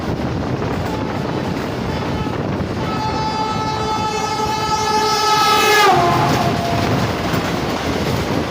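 The Pakistan Railways 16 Down Karachi Express arrives, its loud horn sounding for a few seconds and falling in pitch as it passes, over steady rumbling wheel clatter.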